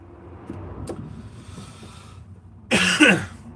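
A harsh, rasping cough bursts out close by near the end, after a stretch of low engine hum and a brief click.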